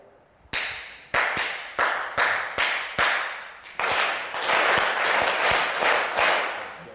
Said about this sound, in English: Just clap a pattern and we'll follow you.